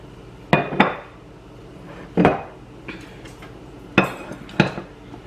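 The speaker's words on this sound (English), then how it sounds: "I'm going to dump 4 tablespoons of butter into the pan." Four tablespoons of butter land in a pan on a burner set to medium heat, making a handful of clattering metallic knocks and scrapes spaced across a few seconds, close and moderately loud, with no talking.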